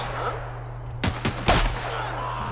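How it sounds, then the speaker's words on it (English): Shotgun blasts in The Outer Worlds, two or three loud close booms in quick succession over a steady low game hum. "Let's try to shotgun him while he's in close range."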